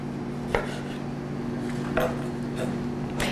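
Grape tomatoes are halved with a knife on a board, a few sharp knocks spaced well apart over a low steady hum, quiet and close, with no voices.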